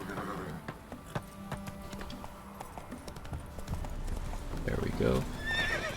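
Roach, the horse in The Witcher 3: Wild Hunt, trots with steady hoof clip-clops and gives a clear neigh near the end, under a speaking voice.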